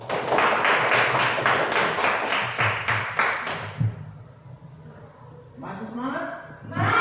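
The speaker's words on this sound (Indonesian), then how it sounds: "Tepuk tangan dulu." Students in a classroom clap their hands together in quick, steady bursts lasting several seconds, then the sound fades as a voice starts talking.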